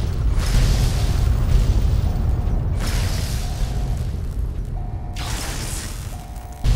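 Explosions in the video game Fallout: New Vegas: a heavy, continuous low rumble with several loud booming bursts spread across the stretch, and no talking.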